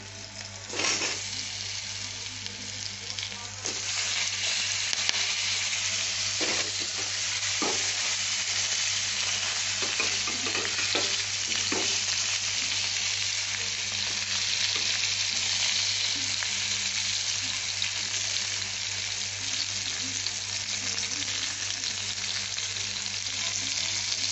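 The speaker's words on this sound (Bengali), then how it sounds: "দিয়ে আমি পটলগুলোকে ভেজে তুলব। পটলগুলো দিয়ে দিচ্ছি।" Pieces of pointed gourd (potol) sizzle steadily in hot oil in a pan tempered with bay leaf and green chilli, a continuous close frying hiss with occasional stirring clicks, no talking.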